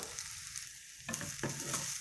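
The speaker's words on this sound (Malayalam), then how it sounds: "ഇനി ഇത് നന്നായിട്ടൊന്ന് വറുത്തെടുക്കണം" Soft sizzle of grated coconut frying in ghee, with a few scraping stirs of a spoon near the end; quiet and close, no voices.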